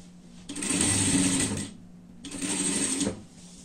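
A sewing machine stitches a pet fox costume in two bursts of rapid, close mechanical whirring, with a short pause between them.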